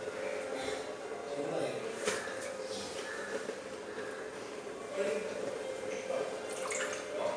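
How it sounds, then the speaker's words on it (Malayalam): Drumstick (moringa) leaves are washed in water in a home kitchen, with soft splashing and dripping sounds recurring at intervals across the clip, moderately close. "നമുക്ക് മുരിങ്ങയുടെ ഇല കഴുകിയിട്ട് ഇതിലിടാം"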